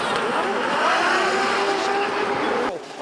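A drift car at a Drift Masters competition in Poland screams through its gears, the engine note climbing and shifting across a few seconds, loud and close with crowd and commentary noise underneath.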